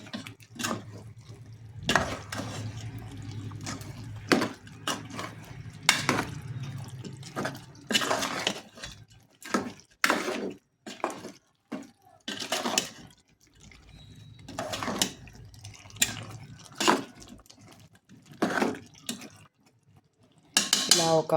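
Chicken curry stirred in a metal cooking pot, with irregular scraping and clinking strokes of a spoon against the pot, some louder than others, in a quiet kitchen.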